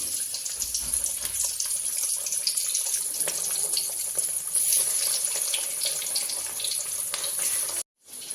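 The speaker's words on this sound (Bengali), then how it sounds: "এখন মাছগুলো আমি একটা একটা করে তেলে ছেড়ে ভেজে নেব।" Fish pieces frying in hot oil for a katla gravy, a steady close sizzling hiss with bright crackling spatter throughout, broken by a brief silence near the end.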